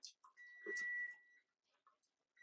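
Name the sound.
cooking timer beeping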